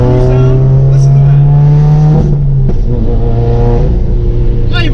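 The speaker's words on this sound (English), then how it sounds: "This sound, this Subaru sound, listen to" A Subaru WRX/STI engine and exhaust drone steadily while cruising, a loud close low rumble that shifts pitch as the revs change, with a person talking over it.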